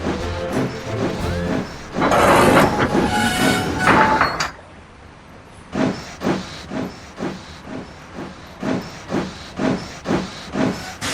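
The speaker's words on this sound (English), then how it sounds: "As he shunted the trucks into line, Magnus was pushing them whilst reversing." A steam locomotive shunting trucks while reversing: a loud burst of hissing steam, then a run of rhythmic chuffing exhaust beats that continues steadily, with no talk.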